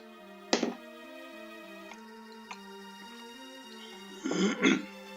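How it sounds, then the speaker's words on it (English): A person clears their throat nearby, two short rough bursts at the start and a longer double rasp near the end, over a steady tonal hum with faint ticking in between. "it makes me have to clear my throat all the time"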